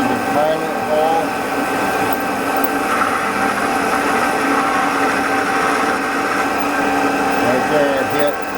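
A Vevor 600 mini lathe running at about 800 RPM while cutting metal, a loud, steady whirring hum with a faint grinding edge that holds evenly throughout.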